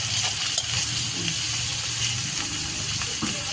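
Ridge gourd and green peas sizzle as they fry in a spiced fish curry in a pan, a steady close hiss and crackle running throughout without pause.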